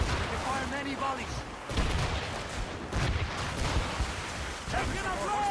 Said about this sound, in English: They fire many volleys.